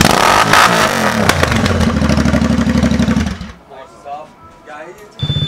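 A Royal Enfield Interceptor 650 motorcycle with its exhaust removed revs loud and close for a few seconds with a raw, clattering roar, then cuts off as a person starts talking.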